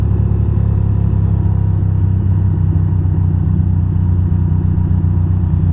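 A motorcycle running while ridden in traffic gives a loud, continuous low engine rumble that stays steady throughout, with no voices.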